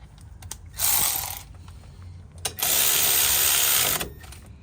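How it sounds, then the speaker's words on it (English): A ratchet fitted with a 13mm socket clicks in two quick, close bursts while fastening parts during a brake pad and rotor job on a 2020 Ford E450. "Come back in with our ratchet here."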